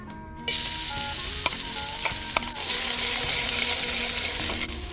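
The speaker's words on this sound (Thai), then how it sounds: "มันพืชใส่ลงไป หอมเตี้ยมต่ำครับ" Curry paste frying in vegetable oil in a pan, a steady close sizzle throughout with a few light scrapes and clinks of stirring.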